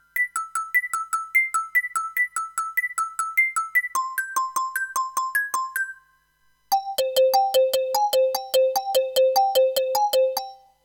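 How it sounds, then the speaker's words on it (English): Korg Volca FM synthesizer plays rapid, high-pitched bell-like tones in repeating staccato patterns, shifting lower midway after a short pause, clear and loud with no talking. "the Volca FM, and this also has grand potential to make scary sounds"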